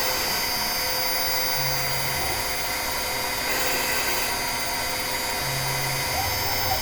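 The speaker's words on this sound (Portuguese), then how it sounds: "Então ele vai fazer toda a furação." CNC router drilling holes in a small printed circuit board: a loud, constant high spindle whine with a dense hiss, broken by short lower-pitched bursts as the bit plunges, with no talking.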